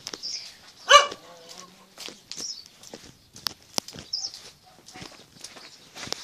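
A single sharp dog bark rings out near the start, followed by scattered footsteps and light shuffling noises.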